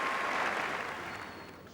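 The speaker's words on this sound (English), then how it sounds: "The crowd showing their appreciation." Crowd at a football stadium applauding after the whistle, a broad steady wash of clapping and cheering that stays loud throughout and eases off slightly toward the end.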